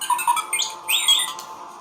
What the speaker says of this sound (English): This is the sound that R2-D2 makes.